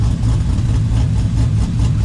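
A Ford 7.3 Godzilla V8 swapped into a vehicle with a new cam idles steadily and loudly up close, with a deep, lumpy low rumble and a slight exhaust leak, no voices.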